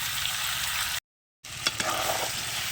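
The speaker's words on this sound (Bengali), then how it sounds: "মোষের গোশ আলু বন্ধুরা কষানো প্রায় হয়ে এসছে। আর একটু কষিয়ে নেবো ভালো করে।" Buffalo meat and potatoes frying in a pan, a soft continuous sizzle broken by a brief silent gap, then a couple of light stirring knocks against the pan.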